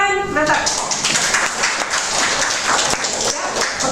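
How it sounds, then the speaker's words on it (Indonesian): An audience claps after a medical lecture on uncomplicated malaria. A brief voice at the start gives way to several seconds of moderately loud, dense applause. "Oke, tepuk tangan, Nata."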